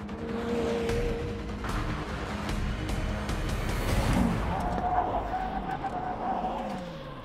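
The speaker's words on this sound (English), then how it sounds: "when we get to that cone down there, we're both going to brake." A McLaren Senna brakes hard from 100 mph beside a Jaguar F-Type, a broad roar of engine and road noise fading as the cars slow, with faint tire and mechanical tones in the background.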